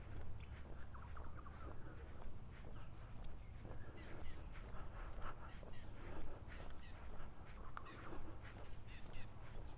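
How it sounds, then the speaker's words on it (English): Crows caw repeatedly on a morning walk along a quiet residential close in Innisfail, Australia, with scattered bird calls overlapping at moderate distance against a soft outdoor background. "We'll get quiet for a bit and just hear the birds."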